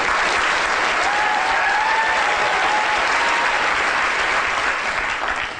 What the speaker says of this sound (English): a big round of applause to Kate and Billy